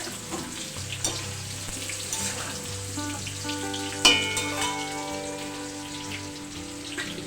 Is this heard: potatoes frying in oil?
yes